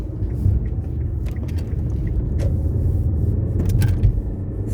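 Steady low rumble of passing vehicles on Highway 160 near Pahrump, Nevada, a continuous nearby road drone with a few brief clicks and knocks on top.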